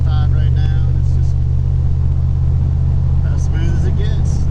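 A supercharged 1997 Ford Mustang Cobra cruises on the highway at about 65 mph. The low, steady engine and road rumble hums loud and close inside the car while someone talks over it.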